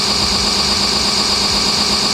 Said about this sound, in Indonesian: jika throttle diam, suara mesin akan mati sendiri